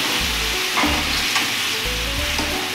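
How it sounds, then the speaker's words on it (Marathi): Water poured into a pan of sizzling dal and onion for a Maharashtrian dal kanda, giving a close, steady frying hiss with stirring scrapes and pulses of bubbling, without any voices. "मग त्यामध्ये थोडंसं पाणी घालायचं शिजण्यासाठी।"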